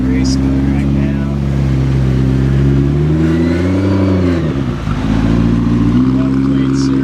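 McLaren 675LT in race mode, its engine droning loud and close with a steady tone that dips and swells briefly midway, a person talking over it.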